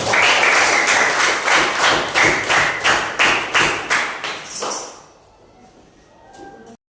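A classroom of students performs a rhythmic patterned clap in a school lesson, loud, evenly spaced bursts of hands in a steady beat for about five seconds, then stopping abruptly into near quiet.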